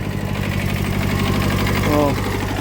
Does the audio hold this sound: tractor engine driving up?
yes